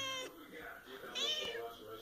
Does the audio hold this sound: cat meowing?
yes